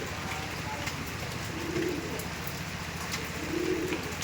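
Pigeons of a short-bodied red Andhra breed coo softly in two low bursts over a steady murmur of background noise, with no talk.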